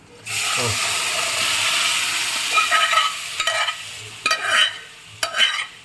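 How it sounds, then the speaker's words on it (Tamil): Chickpea gravy for pindi chole being stirred as it fries in a pan: a steady, loud sizzle runs throughout, broken by a few scraping stirring strokes near the end. "இனி நல்லா கிளற வேண்டியது தான்."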